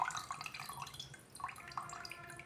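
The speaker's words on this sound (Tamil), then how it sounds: "தண்ணி எடுத்து ஊற்றி கட்டுறேன் பாருங்கள்" Water poured by hand into a container while testing a Femi-9 product, faint soft splashing and dripping in short uneven bursts, close and quiet.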